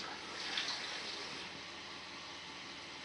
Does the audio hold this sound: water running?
yes